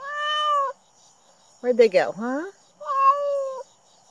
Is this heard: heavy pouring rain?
no